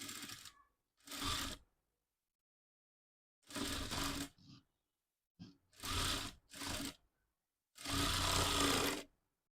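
A sewing machine stitches piping onto puffed designer sleeves in short separate runs, each burst of clattering needle motion followed by silence, close and alone with no voices.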